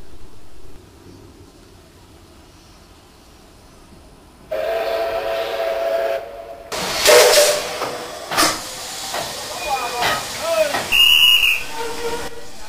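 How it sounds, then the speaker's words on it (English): A steam locomotive on the Shibanxi line pulls out of Bago station in the early morning, giving loud bursts of steam hiss and sharp chuffs after a quiet start, with a brief whistle near the end. "As the early morning train leaves Bago, we can see the larger tenders which all the steam locos now use."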